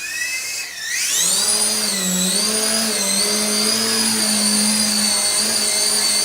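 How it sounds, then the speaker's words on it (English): A small 4-channel RC helicopter rotor whines and buzzes steadily at high pitch, spinning up at the start then holding a continuous motor drone close by. "Now it's time for our young reviewer Kaya to take charge of our 4-channel helicopter."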